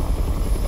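A helicopter in the video game Resident Evil 3 produces a steady, loud, low rotor rumble throughout a short moment, with no voices.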